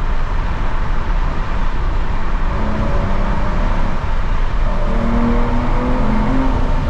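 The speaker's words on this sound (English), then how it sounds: "Oh my God, I pushed it into the rev limiter." An Aston Martin DBS engine revs hard in second gear up toward the rev limiter, a loud, continuous cabin-side roar with climbing pitch and dense road and exhaust noise, with no voices heard.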